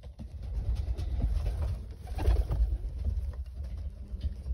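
Tippler pigeons cooing in a breeding loft, including an opal lace bird; soft low murmuring coos and rustling come close and continuous, with occasional patter and shuffling, no talk.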